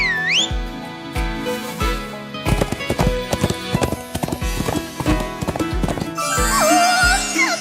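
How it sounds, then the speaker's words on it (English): Hooves clip-clop in a quickening rhythm as a horse approaches, with a shrill whistle at the start and a horse neighing near the end. "Leston whistles, and a horse comes running towards them."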